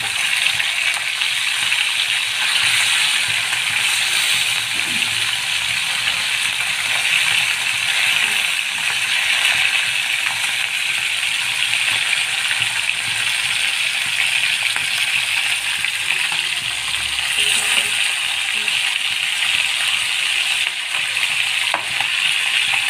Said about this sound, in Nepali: माछा फ्राई हुँदैछ मेरो